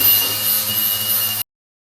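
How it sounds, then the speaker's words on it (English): A grinder works rusty metal on the bed side of a 1978 Ford F100, giving a loud, steady, harsh grinding that holds for about a second and a half before cutting off abruptly into silence. "now we're gonna start grinding this down"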